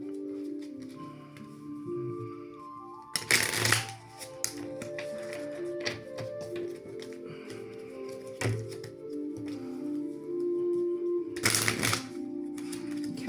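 Two short riffling bursts of spiritual advice cards being shuffled by hand, under a faint background of steady tones.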